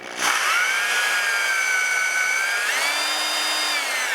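A drill runs loaded by oil pressure while priming a 1958 Plymouth engine, a steady, whining motor continuous for several seconds, its pitch dipping and then rising slightly as the load changes, close and loud.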